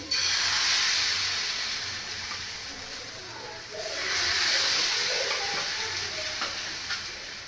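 Rice and lentil batter poured into a hot pan for winter pithe, a loud sizzling hiss that swells, fades slightly, then surges again, with faint scraping and background voice.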